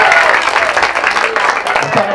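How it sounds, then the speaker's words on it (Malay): A crowd clapping hands at an outdoor street religious gathering in a village cemetery, a brief, loud, dense patter of applause with voices mixed in beneath it. "Tepuk tangan"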